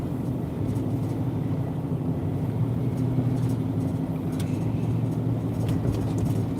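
Steady low rumble of a car interior while driving, a continuous engine and road drone that holds at an even level throughout with no talk.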